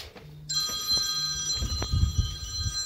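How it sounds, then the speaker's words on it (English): An old-style telephone bell rings loudly indoors in one long sustained burst, with a few soft knocks and background rustling around it. "Phone!"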